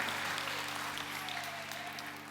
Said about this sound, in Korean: 우리 박수로 축복하고 또 격려해 주시기 바랍니다